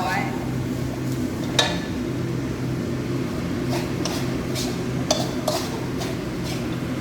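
Pork stir-fried in a pan over low heat, a quiet steady sizzle with a few sharp clinks of a utensil against the pan scattered throughout, while a voice talks faintly.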